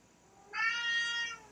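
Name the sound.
cat meowing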